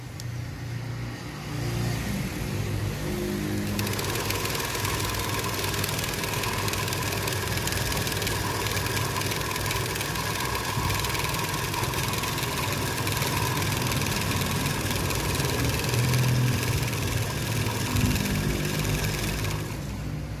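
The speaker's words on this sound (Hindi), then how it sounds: "फिर मोटर को इंशाल्लाह ऑन कर देंगे।" A homemade ceiling-fan armature rewinding machine's motor hums steadily for the whole stretch after starting up, a continuous close mechanical drone with a low rumbling undertone.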